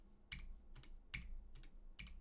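Keys on a computer keyboard are tapped one at a time while a web browser is driven by keyboard shortcuts, about five crisp, quiet presses spaced evenly and close by.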